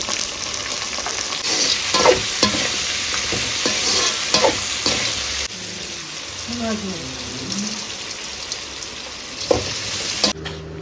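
Sliced onions with ginger and garlic frying in hot oil: a loud steady sizzle, with scraping stirs early on and a few clinks later, close to the pan.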